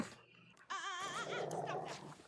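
A dog in a Walking Dead episode gives a faint, high, wavering whimper and whine, breaking into a few quavering cries with a soft rumble under them.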